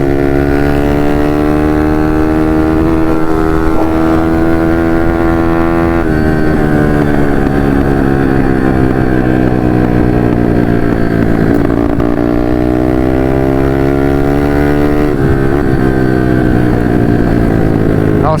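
A KTM 150 RXF dirt bike ridden fast on a trail ride with friends, its two-stroke engine loud and close, a continuous buzzing whine rising and falling in pitch as the rider shifts and changes speed.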